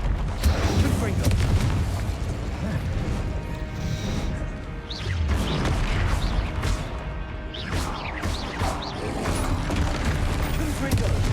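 Repeated fiery explosion bursts from the Confringo blasting spell in Hogwarts Legacy, crashing and booming at intervals over a dense game soundscape, with a voice talking over parts of it.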